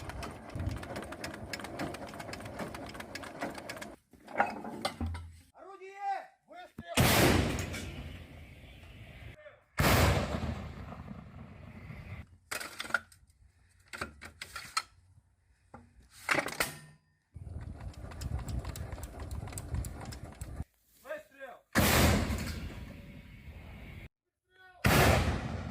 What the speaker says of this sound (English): Msta B-152 howitzer crews destroying armed force of Ukraine armored vehicles